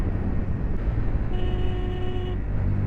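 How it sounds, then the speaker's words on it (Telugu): A weak, thin vehicle horn sounds for about a second over a steady rumbling engine, the tone faint and strained. "హారన్ అంత మంచిగా పనిచేస్తలేదు, హారన్ పనిచేస్తలేదు"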